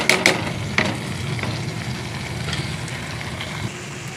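Beef mini kabab curry cooking over low heat in a pot, a steady soft sizzle and bubbling with a few sharp clicks of a spoon stirring near the start, close and without talk.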